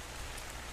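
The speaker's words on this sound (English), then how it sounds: "it's raining. It's fucking raining." Rain falls in the game Ark, a dense, steady hiss of drops on surfaces, soft and continuous through a brief moment without any voices.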